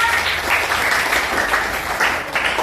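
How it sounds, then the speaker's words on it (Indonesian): Children in a classroom burst into a brief round of applause, a dense, bright patter of many small hands clapping together for a couple of seconds, fairly close and steady. "Tepuk tangan untuk kalian semuanya."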